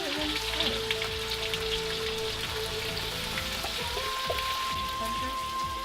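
Pork and onion frying in a pan give a loud, constant sizzle that crackles like rain throughout, while tonal sounds run underneath.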